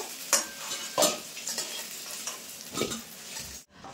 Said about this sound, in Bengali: আলুগুলো কিন্তু লাল লাল করে ভেজে নেব